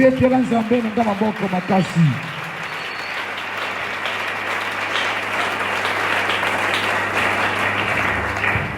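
A congregation at a religious gathering applauds for God; a voice briefly leads at first, then sustained, dense clapping fills the room steadily until the end.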